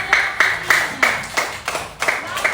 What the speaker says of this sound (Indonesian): Oh iya, kita tepuk tangan dulu untuk Griselda.